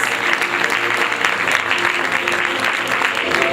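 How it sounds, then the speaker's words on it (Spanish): An audience at an international labor procedural law congress panel applauds in a steady, dense wash of clapping, loud and sustained for the whole stretch with little else audible. "Le renovamos el aplauso a todos ellos."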